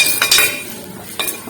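Onions frying in oil in a pan for a poori saagu, stirred with a metal utensil: a few quick scraping clinks over a steady soft hiss, close and moderately loud, with no talking.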